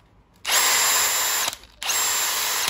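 A multi-function power hammer drill, a collector's tool, whirs loudly and steadily at high speed in two sustained bursts separated by a brief pause, with no voices.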